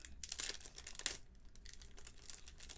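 Crinkly plastic wrapping being torn open around a package of dried citrus slices, a close, dry rustle with sharper crackles and tearing bursts, steady for a few seconds.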